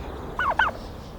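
Farm turkeys gobble in two quick, close warbling calls over a quiet background.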